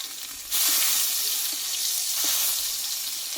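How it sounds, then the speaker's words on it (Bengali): Onion and cumin seeds hit hot oil at half a second and break into a loud, steady sizzle, with a few soft clicks of frying bits; the pan is close and no one speaks. "দেখো এই তেলটা পেঁয়াজটা ভেজে নিয়েছি"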